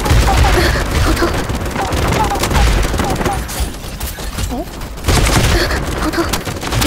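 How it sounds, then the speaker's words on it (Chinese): Rapid overlapping gunfire bursts and booms from the mech battle-royale game Super Mecha Champions, loud and continuous with dense layered shots throughout, with a voice speaking underneath. "好像听到了枪声"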